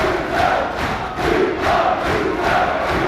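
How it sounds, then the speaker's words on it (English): A boxing crowd roars in opposition territory for Graham Earl, whose eye is bleeding, in his fight with Angel H. Ramirez. The noise surges and dips in steady waves, with no clear speech on top. "the crowd really trying to raise Earl's performance if they can"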